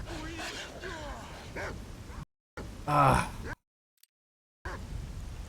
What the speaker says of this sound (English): Shoot the dogs, you idiot.